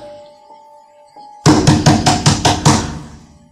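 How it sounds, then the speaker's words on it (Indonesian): Loud banging on a house door, a rapid burst of about seven heavy knocks in a steady rhythm after a quiet hum, close and ringing briefly after the last blow. "menggedor pintu rumah Hadi dengan cukup kencang"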